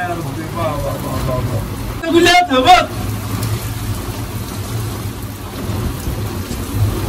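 Heavy rain pours steadily over Marrakesh during a thunderstorm, with a low rumble underneath and a brief louder burst midway, while people talk nearby throughout.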